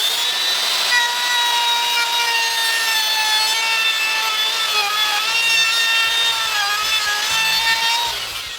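A power cutter whines loudly through acrylic, a steady high-pitched grinding tone with slight wavering pitch, continuous and close.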